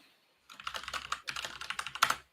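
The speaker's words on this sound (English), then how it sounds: "Oh, he's typing something." Quick, uneven keystrokes on a computer keyboard fill the clip after a brief silent start, a steady close-up clatter with a couple of louder strikes near the end and no voices.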